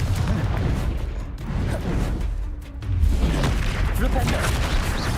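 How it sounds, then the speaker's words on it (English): A Confringo fire spell explodes in Hogwarts Legacy, a deep booming blast among rumbling, gunfire-like bursts and whooshes that briefly dip and then surge back loud within dense combat noise. "Confringo."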